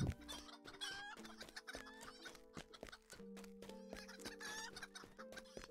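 Chickens cluck steadily in a video game set in the Shire, a dense run of pecking clucks and squawks layered over soft background game music, with no talk.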